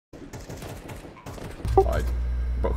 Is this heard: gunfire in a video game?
yes